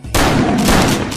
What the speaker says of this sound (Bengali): এক্ষুনি গુলি করুন স্যার, গুলি করুন।